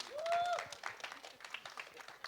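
An audience applauds at a film trailer launch event for Jatt and Juliet 3. The clapping is steady and moderately loud, with a brief tonal cheer or whistle at the start.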